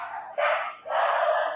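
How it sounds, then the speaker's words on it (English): Two sharp barks from dogs close by, the second longer and a little rougher, separated by a short pause against a quiet background. "Sorry for the dogs in the background."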